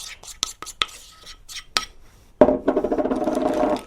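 A spoon scrapes and taps as buttercream frosting is loaded into a piping bag for cupcake decorating. Sharp metallic clicks come first, then a denser rustling, squelching burst close to the microphone.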